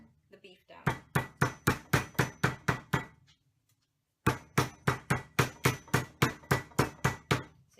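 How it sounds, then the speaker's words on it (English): The sharp side of a hammer pounds beef in a steady rapid series, about a dozen sharp thuds, a brief pause, then another even run of strikes, close and loud. "using a hammer on the sharp side and hammering the beef down."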